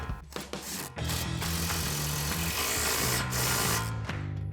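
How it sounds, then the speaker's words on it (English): An impact wrench with an 18 mm socket tightens a sway bar link nut on a 2015–2025 Ford Mustang, giving a continuous, close mechanical whir lasting a few seconds after a brief start. "Grab your impact 18 millimeter socket, 17 millimeter wrench to hold the back side, and tighten that down."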